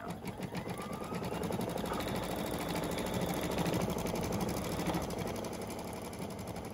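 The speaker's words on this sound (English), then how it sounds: "Placement stitch going down." An embroidery machine sews a placement stitch, its steady rapid needle chatter running continuously and evenly at moderate volume from start to finish, with no voices.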